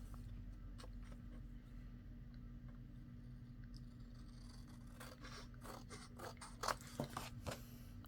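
Scissors trim small paper craft pieces: a run of crisp, close snips and scraping cuts, quiet at first and then clustering into repeated strokes near the end, with no talk.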